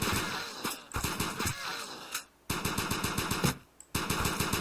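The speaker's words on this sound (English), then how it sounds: "So I just got a pretty good type of Gatling weapon." Gatling gun firing in the video game Crimsonland: continuous rapid automatic bursts, loud and dense, broken by two brief pauses before the fire resumes.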